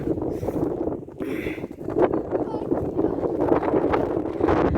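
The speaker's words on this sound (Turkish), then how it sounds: "Çok rüzgar esiyor yalnız burası." Strong wind in a village near cows buffeting the microphone in a steady low roar, with gusts swelling and fading throughout.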